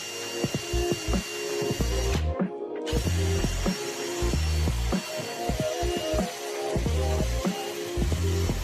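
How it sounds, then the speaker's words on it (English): Power drill whirring through a wooden plank and cabinet back in repeated short bursts, with rattling ratchet-like clicks between pulses, close and loud, one brief pause midway. "Drill through both the attachment and the back."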